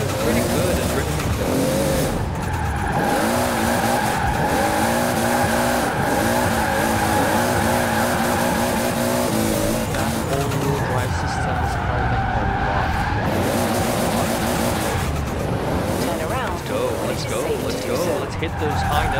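A Mazda RX-3 drifts in Forza Horizon 4, tires squealing continuously over a loud revving rotary engine, with a voice talking over the constant skidding.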